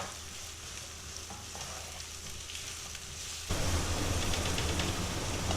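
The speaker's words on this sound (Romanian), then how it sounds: "Amestecăm și lăsăm până ce ceapa se înmoaie." Chopped onion with salt sautéing in a pan, a steady hissing sizzle that swells louder partway through as it is stirred, with no voices.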